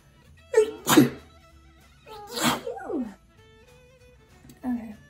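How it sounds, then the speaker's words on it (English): A person sneezes at close range during a makeup routine at home, with a sharp burst followed by a second, softer sneezy exhale and a brief sniff or murmur afterward. "I have to sneeze."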